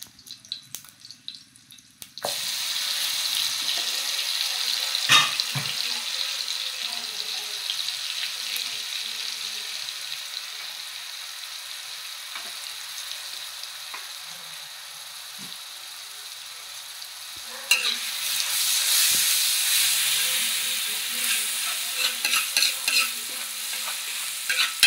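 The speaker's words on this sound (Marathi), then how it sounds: "आता आपण टाकूया हिरवी लसूणची पेस्ट।" Green garlic paste fries in a hot pan while being stirred, giving a steady, close sizzle that runs nearly the whole time, with a short quiet stretch at the start and a brighter, louder burst near the end.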